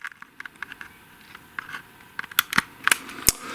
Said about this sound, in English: just plug the USB cable into the MiniDisc